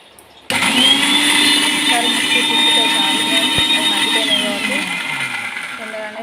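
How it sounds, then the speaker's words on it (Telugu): A mixer grinder whirs steadily as it blends oil-softened tomato and onion into a paste for a spicy chicken curry, starting abruptly and running loud and continuous with a high motor whine. "టమాటా ఉల్లిగడ్డ నూనెలో మగ్గబెట్టినవి వేసుకోవాలి వేసుకొని ఒకసారి మిక్సీ తిప్పుకోవాలి"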